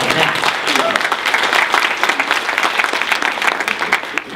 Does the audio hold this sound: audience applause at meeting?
yes